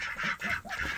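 A duck in a coop during a winter blizzard gives a few short nasal honking quacks in quick succession, close and fairly clear, with no talking.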